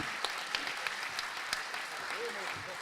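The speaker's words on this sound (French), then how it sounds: "On peut les applaudir très fort tous les 6." Applause from an audience for six speakers at an entrepreneurs' forum, a steady faint wash of clapping with a few sharper claps standing out and a voice briefly heard underneath.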